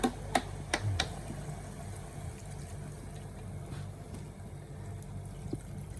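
Tap water runs steadily into a cooking pot for chicken tinola with papaya, a continuous low rushing pour under a few faint knocks at the start.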